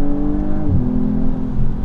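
A BMW M240i xDrive engine revs under hard acceleration, a loud, close drone that dips briefly as the gear changes and then climbs again, with no voices.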